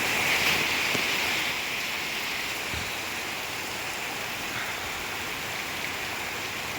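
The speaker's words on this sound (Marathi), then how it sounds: "आज पावसाने मजबूत जोर धरलेला आहे." Heavy rain with big drops falling steadily, a dense continuous hiss of rainfall that is slightly louder at first and then holds even, with no voices.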